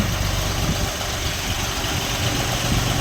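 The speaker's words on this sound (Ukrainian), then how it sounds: "Ось такий Донфен 244 G2. Їде до своїх власників." A Dongfeng 244 G2 mini tractor engine idles steadily up close, a continuous low throbbing rumble with constant vibration and no pauses.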